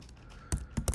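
A few keystrokes on a computer keyboard while entering a podman command: three quick, close clicks bunched near the end after a quiet lead-in.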